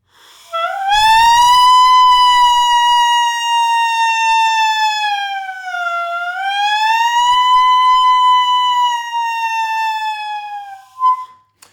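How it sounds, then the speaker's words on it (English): A tenor saxophone mouthpiece blown alone makes a loud, steady siren glide: the pitch sweeps up, sags in the middle, then climbs again before it cuts off after about ten seconds. "Just try to do the siren on your mouthpiece, and I'll demonstrate on a tenor mouthpiece."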